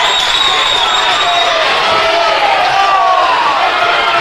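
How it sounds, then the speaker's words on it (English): A high school basketball crowd at a Lander versus Powell game reacts loudly against a foul call, a dense sustained roar of voices and jeers filling the gym without a break. "you can hear the Lander crowd does not like that call at all"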